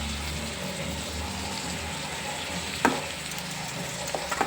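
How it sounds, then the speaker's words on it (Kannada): Soaked flattened rice (avalakki) is stirred in a pan for breakfast uppittu, giving a soft, steady sizzle and rustle broken by a few light spoon clinks. "ಇವಾಗ ಇದರೊಳಗಡೆ ಮಿಕ್ಸ್ ಮಾಡ್ಕೊಳ್ಳೋಣ ಅವಲಕ್ಕಿನ."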